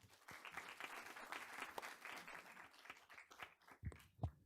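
An audience at a school district board meeting applauds students with a sustained round of clapping that is fairly faint and distant, thinning out toward the end into a few louder individual claps.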